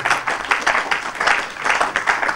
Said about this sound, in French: de saluer par nos applaudissements le très cher révérend professeur, directeur général Sicré